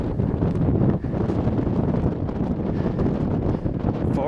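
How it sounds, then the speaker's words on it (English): Gusty wind buffets the microphone in a continuous low rumble on a mountain trail in Rocky Mountain National Park, rising and dipping slightly throughout, with no one speaking. "It's pretty cool and windy up here."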